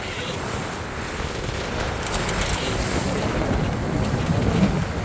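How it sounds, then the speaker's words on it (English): Large waves slosh and break around a sailboat with reefed sails in strong wind, a steady broadband roar of water and wind buffeting the microphone throughout, swelling slightly louder toward the end. "Big waves."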